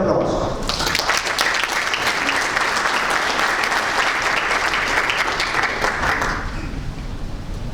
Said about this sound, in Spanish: recibamos al ingeniero Oscar Arce con un fuerte aplauso